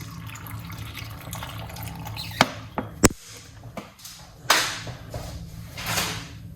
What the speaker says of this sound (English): you want to just put a little bit of water inside of it